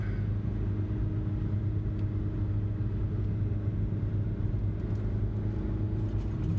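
A car engine drones steadily at low pitch with road rumble while driving a winding highway, shifting up into third gear; the sound is continuous and close, with no voices.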